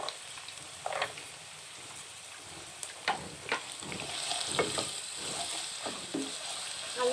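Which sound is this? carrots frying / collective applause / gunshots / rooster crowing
carrots frying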